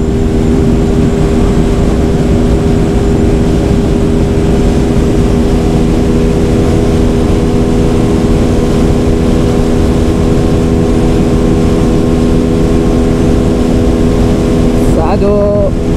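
A TVS Apache 200 motorcycle engine drones steadily with strong harmonic tones and heavy wind rush as the rider holds speed in fourth gear, a rising tone near the end hinting at revs climbing; someone talks over it.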